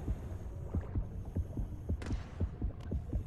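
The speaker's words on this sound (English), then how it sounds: "Look, hearing the heartbeats." Heartbeat effect from the underwater game Depth, a regular low thumping pulse repeating several times a second under a murky hum with faint creaking.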